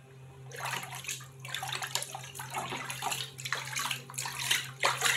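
Warm water runs and splashes steadily from a tap into a basin on a farm, used for soaking feet, a continuous close gush with a few louder surges.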